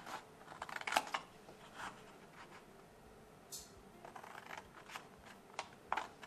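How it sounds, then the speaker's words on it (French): Scissors cut out an origami paper star in a quiet room, giving soft, close snips and paper rustles in irregular bursts with short gaps between them. "Ensuite, on va donc découper notre étoile."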